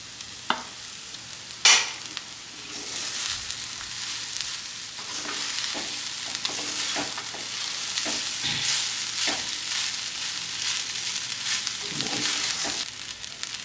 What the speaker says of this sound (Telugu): మరీ ఎక్కువ వేయించుకోకుండా కాస్త వేగితే చాలు, ఆ టేస్ట్ చాలా బాగుంటుంది.